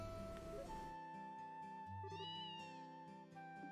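A cat in the video game Trails in the Sky gives a single clear meow over soft game music playing in the background.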